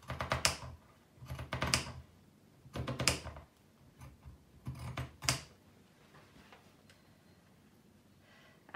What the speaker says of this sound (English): You just literally just trim the slightest edge off,